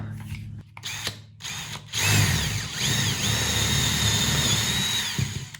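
A power drill whines loudly and steadily as it bores through scrap wood, its motor pitch shifting slightly, preceded by brief clicks and handling noise.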